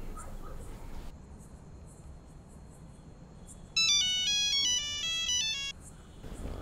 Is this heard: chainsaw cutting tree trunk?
no